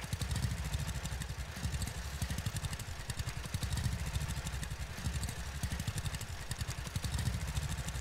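A small Jack Bear tractor in the farming game Farmers Dynasty drives over ruts, its engine chugging in a steady, rapid, throbbing rhythm at constant loudness throughout, with no talking.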